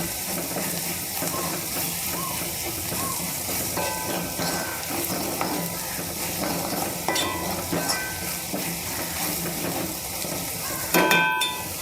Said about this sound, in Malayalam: ഈ സമയത്ത് നമുക്ക് അല്പം കറിവേപ്പില ഇട്ട് കൊടുക്കാം. ഒപ്പം ഒരു 1/2 ടീസ്പൂൺ മഞ്ഞൾപ്പൊടി ഇട്ട് കൊടുക്കാം.